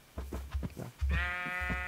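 Minecraft sheep giving a few short bleats, then one longer, drawn-out bleat, close and clear with nothing else around.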